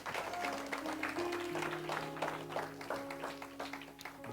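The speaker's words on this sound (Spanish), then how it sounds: "dele un fuerte aplauso al Señor." Church congregation applauding, a steady, dense wash of many hands clapping at moderate distance, with sustained organ or keyboard tones beneath and faint voices mixed in.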